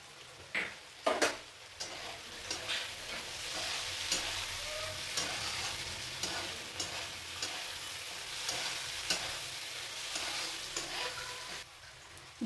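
Vegetables and peas sizzle in a pan for mixed fried rice, a few sharp utensil clinks at the start followed by a steady, soft frying hiss with light stirring scrapes throughout.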